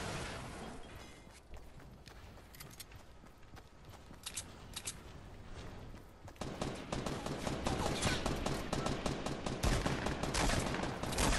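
Sustained automatic gunfire in the video game Fortnite Battle Royale, a dense rattle of rapid shots that grows louder and busier halfway through and continues without pause.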